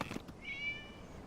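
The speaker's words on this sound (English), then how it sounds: "It was just a cat." A cat meows once in the Genshin Impact video game, a short, faint, rising-and-falling mew heard on its own after a soft thump.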